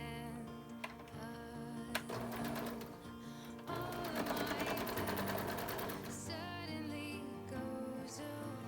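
A sewing machine chain-pieces fabric face masks in quick continuous stitching runs, its rapid needle chatter steady and close with short pauses between passes.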